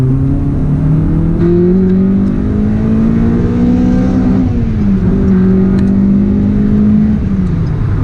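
A 300hp CL1 Honda Accord Euro R engine revs hard and climbs in pitch under full throttle, a loud continuous roar that rises, dips briefly at a gear change, then climbs again.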